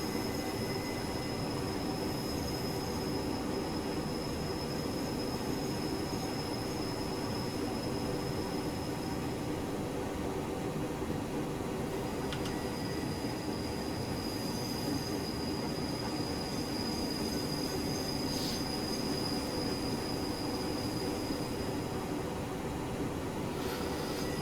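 A Ge 4/4 II electric locomotive in a train simulator game runs continuously with a steady rumbling roar and constant high-pitched wheel squeal, loud and unbroken throughout with no talk.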